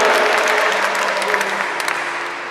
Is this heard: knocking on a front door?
no